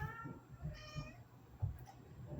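Several house cats meowing in a home studio, a few short cries scattered over a steady low background hum, fairly close and moderately loud, with no talking.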